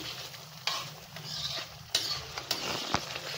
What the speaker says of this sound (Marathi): हे आता शिजलेल्या मसूरमध्ये मी हा तडका ओतून घेते